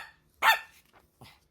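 A dog named Dobby barks indoors: one loud, sharp bark followed by a couple of softer, shorter yips, close to the listener and with no talking over it.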